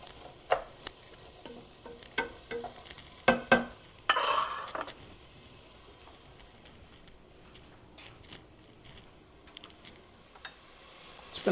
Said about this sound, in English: going to saute our onions